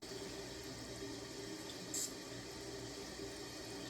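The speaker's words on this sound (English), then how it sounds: "We're going to turn our water back on." A toilet tank refills through a newly replaced fill valve after the water supply is turned back on, a steady close hiss and rush of running water with a brief brighter spurt midway.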